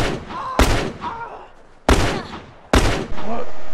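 Gunfire in The Last of Us multiplayer: three sharp, loud shots spaced about a second apart, each with a short decaying tail, against a murky game background.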